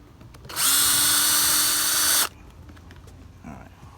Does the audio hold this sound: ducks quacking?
no